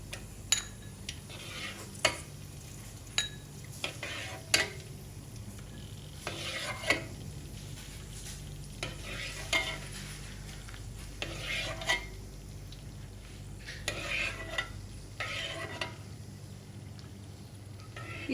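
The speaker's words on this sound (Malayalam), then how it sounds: "അപ്പോൾ നമുക്ക് കശുവണ്ടി വറുത്തെടുക്കാം." Cashew nuts fry gently in ghee in a pan over low heat, a faint soft sizzle broken by repeated scraping and clinking stirs of a spoon against the metal, with no voices.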